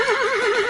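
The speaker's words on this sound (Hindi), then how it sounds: "पहली बार सीखते समय ही वह पूरी गति से घोड़े को दौड़ाने लगते हैं" A horse gives a loud, close whinny with a wavering, shaking pitch while a young rider gallops it at full speed in a historical Maratha riding scene. The whinny rises and falls steadily for under a second, with no voices.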